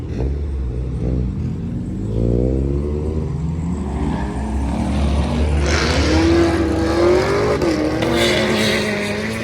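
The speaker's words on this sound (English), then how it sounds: "that little Mitsubishi Lancer sounds terrible" Mitsubishi Lancer car with a rough, bad-sounding engine revving steadily outdoors in the cold, a loud continuous drone that rises and falls in pitch across several pulls, close by with no talk.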